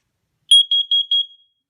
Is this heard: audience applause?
no